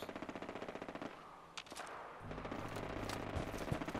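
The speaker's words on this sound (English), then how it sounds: "Explosive sniper rifle." Explosive sniper rifle fire in Fallout 4 (Automatron DLC), a rapid train of sharp repeated shots giving way to a deep sustained rumble and booming impacts, loud and close with no talk.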